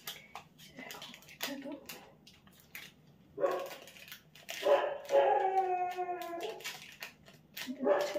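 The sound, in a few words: dogs barking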